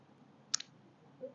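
A single computer mouse click, quick and faint, in a quiet room while working in a browser.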